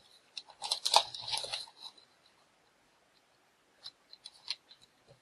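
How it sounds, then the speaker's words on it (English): Paper creased and folded lengthwise for an origami matchbox, a burst of crisp rustling and crinkling up close, then a pause and a few short sharp paper scrapes. "Fold that the whole length through."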